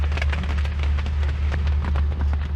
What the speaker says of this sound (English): It is raining still like crazy